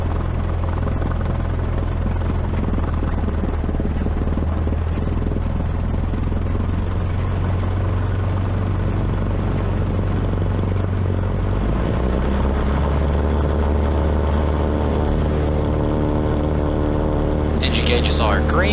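Light propeller airplane engine at full takeoff power during departure from Montgomery-Gibbs airport, a loud steady droning roar that fills the whole stretch and swells slightly near the end, with no talk over it.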